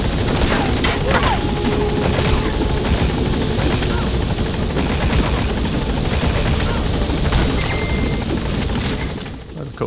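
Helicopter in the video game Metal Gear Solid 5: The Phantom Pain, a steady loud rotor roar that fills the whole stretch, with scattered bursts of gunfire and booms layered over it and faint radio-like voices beneath.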